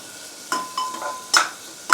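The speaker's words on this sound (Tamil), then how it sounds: "தக்காளி வெங்காயம் எல்லாம் நல்லா வதங்கியாச்சு" Tomatoes and onions sautéing in a pan while cooking a banana-flower dish for a South Indian lunch, heard as a faint sizzle broken by several short stirring scrapes, close and alone with no talk.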